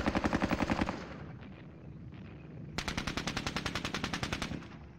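Machine gun fire from the war game Squad Battles Red Victory comes as two long rapid bursts of evenly spaced shots, with a quieter stretch between them.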